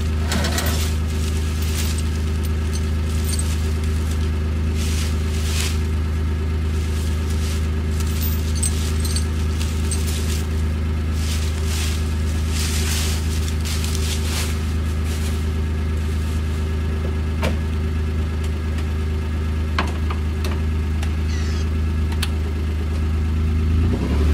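A 2020 Kawasaki Mule Pro FXT Ranch Edition utility vehicle pulls a stump from the ground, its engine holding a steady low droning hum with faint rattles and clinks over it, and no talking.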